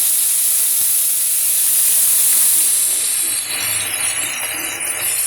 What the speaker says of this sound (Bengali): শুরু করছি সজনের ফুল ভাজা।